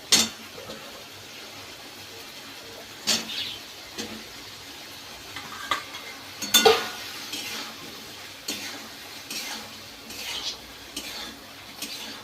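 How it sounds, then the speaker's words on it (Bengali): Eggplant goes into a pan with poppy seeds and is stirred, giving a soft sizzle under scattered scraping and clinking of a utensil against the pan, close and moderately loud with no talk. "এবার দিয়ে দেবো বেগুন।"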